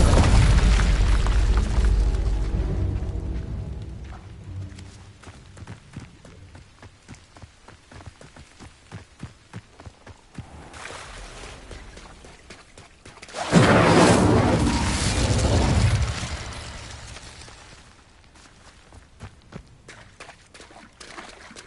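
Incendio fire spells cast repeatedly in Hogwarts Legacy, heard as a string of sharp crackling bursts followed by a loud, roaring whoosh of flame that swells and then fades.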